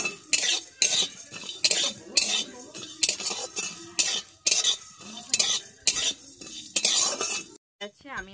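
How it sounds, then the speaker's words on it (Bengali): Whole cinnamon, cardamom, coriander and cumin fry in a pan, heard as repeated sharp scraping strokes of a spoon against the metal, roughly one per second, close and fairly quiet, with light sizzle beneath and a brief clatter at the end. "দারুচিনি, দুটো এলাচ আর হাফ চামচ ধনে, গোটা ধনে, আর হাফ চামচ দিয়ে দিচ্ছি জিরে। দিয়ে আমি ভালোভাবে এটাকে ভেজে নিচ্ছি।"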